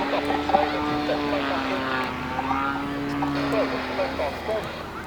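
A 55% scale Yak 54 model airplane drones through an aerobatic display at an air festival, its engine and propeller note rising and falling steadily at a moderate distance while a commentator talks over it.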